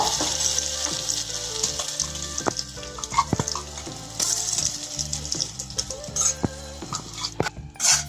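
Raw mango and dried red chillies sautéing in oil over a low flame, a steady soft sizzle with repeated scraping and clinking of a spoon stirring against the pan.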